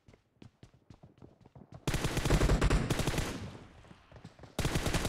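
Rapid bursts of video game gunfire during a team match, with sparse single shots at first, then dense sustained automatic fire that fades and resumes loudly near the end.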